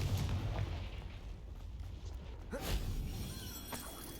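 Confringo blasting spell explosions in Hogwarts Legacy, a low rumbling burst at the start followed by a quieter stretch and a second sharp blast with crackling debris, no voices.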